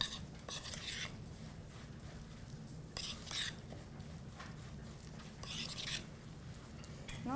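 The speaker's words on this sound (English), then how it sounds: "So we're just going to give that a stir." Chocolate chips stirred into a mixture in a bowl, quiet repeated scraping and light clinking of a utensil against the bowl in uneven bursts, close but faint with no talking.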